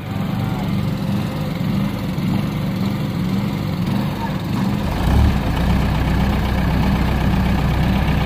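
A 60XT engine idles after a cold start with a steady low rumbling drone and a throbbing hum, close and loud, that deepens and grows heavier about halfway through, with people talking faintly nearby.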